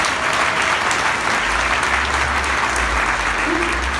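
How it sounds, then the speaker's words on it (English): Conference crowd at the Arizona Tech Summit gives a sustained, loud round of applause, thick continuous clapping filling the room evenly from start to finish, with a low rumble of the hall underneath. "Let's give another round of applause"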